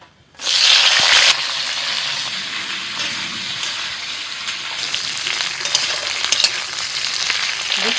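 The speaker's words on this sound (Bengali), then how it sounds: "কড়াইতে তেল দিয়ে ফোড়নে দিচ্ছি কালো জিরে," Flat beans hit hot oil in a wok with black cumin, bursting into a loud, bright sizzle that then settles into steady frying with occasional stirring scrapes, no voices.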